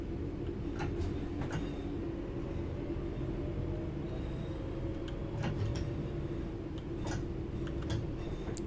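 A Northern Class 323 electric train runs on the Glossop line in Train Sim World 3, giving a steady low rumble from the cab with a constant hum and scattered light ticks and clicks.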